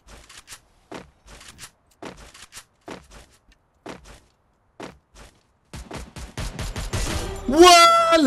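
Gunfire in the shooter game Free Fire: single sharp shots spaced roughly half a second to a second apart, then a denser, louder burst of firing mixed with ringing game effects near the end.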